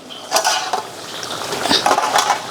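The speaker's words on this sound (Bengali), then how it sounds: "এই ঢাকাটা আমি খুলছি" A metal lid lifted off a cooking pot of paneer, a couple of close clattering scrapes and clinks of metal on metal against a quiet kitchen background.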